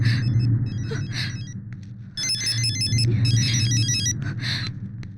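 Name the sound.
phone ringing in another room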